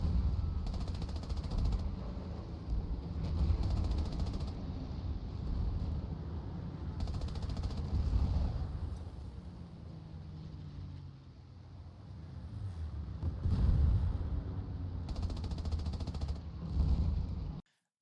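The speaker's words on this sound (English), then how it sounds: "So enjoy watching the pretty explosions" Prop-mounted Swedish and Finnish aircraft guns fire in a flight combat game, producing bursts of rapid gunfire and booming explosions over a constant droning engine.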